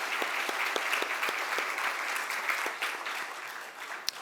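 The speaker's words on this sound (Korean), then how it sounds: "크게 영광의 박수를 돌리겠습니다" A church congregation applauding during a Sunday worship service, sustained moderately distant clapping with scattered sharper individual claps, fairly even throughout.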